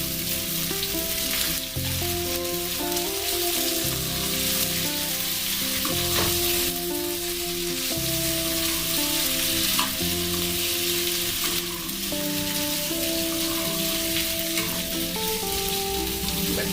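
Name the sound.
potatoes frying and being stirred in a pan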